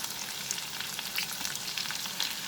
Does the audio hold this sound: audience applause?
no